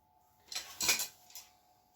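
Scissors snip through cloth while cutting out a size-40 pair of pants: a few short, crisp cuts close by in a quiet room, with a brief pause before a final snip.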